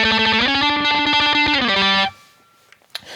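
Heavily distorted electric guitar plays a riff, with thick sustained power chords and a brief pitch shift midway. It rings loud and saturated for about two seconds, then cuts off abruptly, leaving faint noise.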